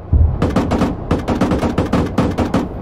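Machine gun fire in a WW2 video game, loud, close bursts of rapid shots in several rhythmic volleys with brief gaps between them.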